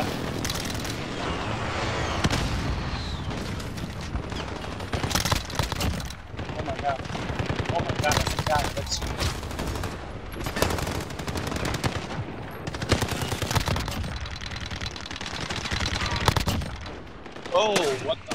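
A deployed sentry gun in Call of Duty: Modern Warfare fires long, rapid automatic bursts with scattered gunfire and blasts, loud and close, while a player talks over the action.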